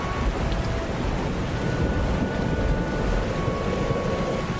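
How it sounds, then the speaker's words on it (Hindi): Heavy monsoon rain pours steadily in an animated story scene, a dense continuous wash of rainfall with low stormy rumble throughout, no voices. "अरे आज तो कितनी तेज बारिश हो रही है"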